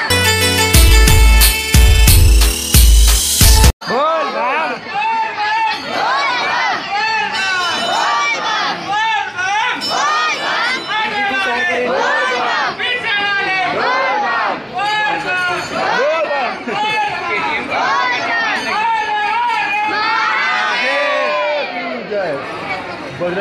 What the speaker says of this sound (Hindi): बहुत ही ज़्यादा भीड़ देख सकते हो इस तरफ